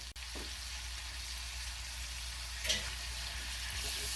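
Minced garlic sizzling in a pan while making a creamy kielbasa pasta: a soft, steady fry hiss throughout, quiet and close, with an occasional light clink of a utensil and a low background hum.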